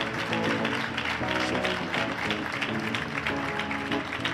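A church congregation at a sermon meeting claps for the pastor, a steady dense patter of applause at moderate distance, fairly faint and sustained throughout.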